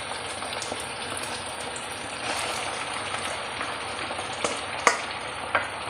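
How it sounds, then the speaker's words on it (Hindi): A kilo of boiled spinach fries with meat in a pan, giving a steady, dense sizzle with occasional louder scrapes and knocks from stirring and no voices. "ये देखें, पालक को हमने बहुत अच्छे से फ्राई करना है।"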